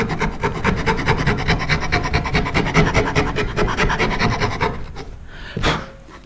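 A wooden long box turkey call being shaped with a rasp down to a marked line, producing fast, rhythmic, close rasping strokes that run steadily for several seconds before stopping, followed by a short scrape.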